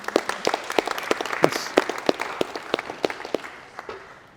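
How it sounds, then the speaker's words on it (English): Audience at a conference talk in Perth claps in a loose, moderately sized round of applause, sharp individual claps close by, thinning out toward the end. "Can we give that a clap?"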